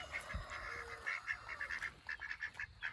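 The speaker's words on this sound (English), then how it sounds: "And guys, our Swedish Blue Ducks." Swedish Blue ducks call in a backyard garden, a string of short honking quacks repeating steadily at moderate distance, with a brief low thump near the start.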